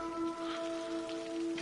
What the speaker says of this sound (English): The answer to that question is, you hear rain.